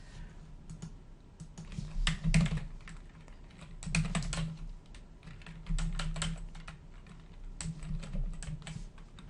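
Credit card number typed on a computer keyboard, a steady run of close, quiet key clicks with small bursts and pauses.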